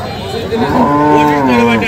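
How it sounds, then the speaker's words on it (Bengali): A dairy cow at a cattle market in Dinajpur, Bangladesh lets out one long, loud, close moo that rises and holds before fading. "দুধের গাভী গরুগুলো।"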